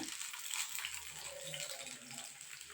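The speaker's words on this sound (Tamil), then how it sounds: "ஆயில் நல்லா ஹீட் ஆனோன்னா நம்ம கட் பண்ணி வச்சுருக்க கத்திரிக்காயை சேர்த்துக்கலாங்க" Cut brinjal (eggplant) pieces hitting hot oil in a pan for a brinjal fry, making a steady close hiss and crackle of sizzling that holds alone throughout.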